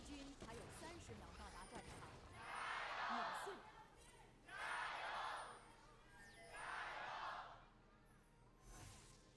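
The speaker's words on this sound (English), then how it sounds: "Love to hear the crowd in Shenzhen getting loud there" An arena crowd in Shenzhen at an LPL esports match roars in three swelling waves of loud cheering, with murmuring and commentary-like voices in the gaps between them.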